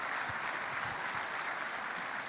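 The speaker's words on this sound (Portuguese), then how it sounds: "vamos dar um aplauso aí pela vida desses irmãos." Congregation applause at a Brazilian church worship service: a steady, dense wash of many hands clapping together for the whole stretch, with no talking over it.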